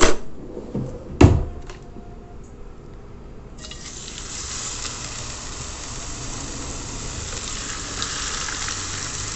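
Thick pieces of chicken hit a pan with a thin drizzle of oil: a couple of clunks of handling up front, then a steady, close frying sizzle that swells and holds to the end.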